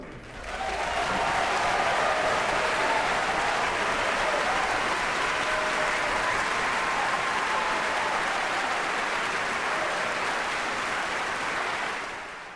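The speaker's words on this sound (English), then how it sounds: "Let's do a big round of applause for Tom Taylor." A concert audience at a July 4 Star Spangled Symphony performance gives a big, sustained round of applause, dense clapping swelling in quickly and holding steady for over ten seconds before tapering at the end.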